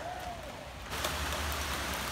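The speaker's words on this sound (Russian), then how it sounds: "Вот у нас пошел дождик." Light rain beginning to fall outdoors near a forest, a soft steady patter that suddenly thickens into a denser hiss of drops on surfaces.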